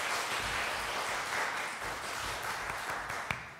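Dense, fairly faint audience applause for a wind quintet of the Szczecin Philharmonic, a continuous wash of many hands clapping with no talk.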